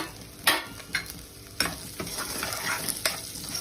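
Paneer cubes and onion sautéing with masala in a kadhai, a continuous oily sizzle punctuated by several sharp spatula scrapes and stirring knocks at irregular intervals.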